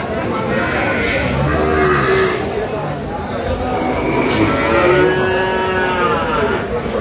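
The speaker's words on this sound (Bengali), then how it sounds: "এখানে একটি গাভী বাছুর দেখছেন" A cow with her calf mooing at a busy rural cattle market in Dinajpur, two or three long, drawn-out moos rising over a murmuring crowd while people talk nearby.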